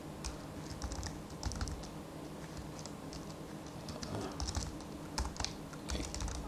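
Steady clicking of keys on a computer keyboard while rules are entered into a text editor, with quiet rapid bursts and short pauses and no talking.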